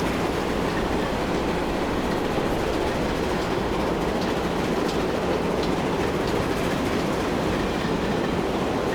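A train passes in the Transport Fever 2 railway game, a steady, loud rumble of rolling wheels and carriages with faint clickety-clack running the whole time and no talking.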